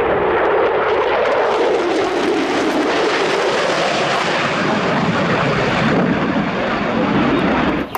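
A toy fighter jet is accompanied by a loud, continuous jet roar lasting about eight seconds, broad and steady with no break.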